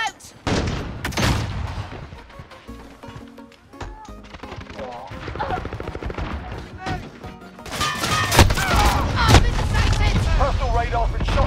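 Combat in Call of Duty Modern Warfare with a flashbang grenade going off, loud booming blasts and crackling gunfire over a rumbling battle bed, with radio-style voices talking throughout.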